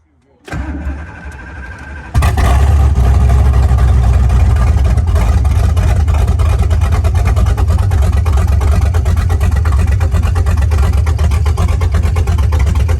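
A Ford Windsor engine in a car fires up for the first time: a brief cranking whir, then a sudden loud catch into a deep, steady, rumbling idle that stays strong and close throughout.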